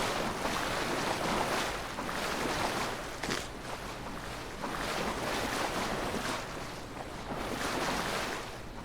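Watery ambience while swimming in Avowed, a steady wash of waves and surf with rushing, wind-like swells rising and falling throughout, no talk.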